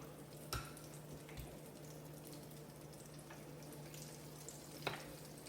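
Akara (koose) bean batter dropped into hot oil, giving a quiet, continuous frying sizzle with a few faint pops and clicks, heard alone without talk.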